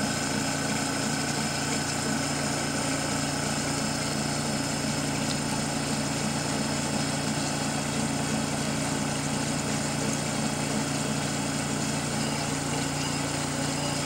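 A Brewer Science 100 spin coater hums steadily as it ramps up toward 500 RPM, a constant close whine with layered tones and no speech over it.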